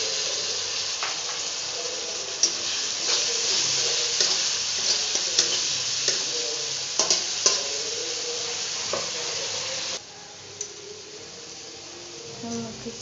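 Masala fries in a pan for a fish dish, with a steady close sizzle and hiss punctuated by sharp scraping stirs, then the frying drops noticeably quieter near the end; a voice speaks intermittently.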